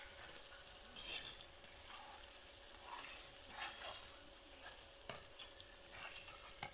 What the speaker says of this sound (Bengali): এখন মুসুরির ডালগুলোকে ভালোভাবে নেড়ে নেড়ে একটু ভেজে নিতে হবে।